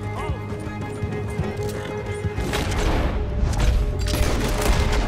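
Horses clip-clop and whinny amid a busy Western-style video game shootout, hooves and occasional neighs mixed with scattered gunfire and crashes, with a voice speaking over the dense, steady din.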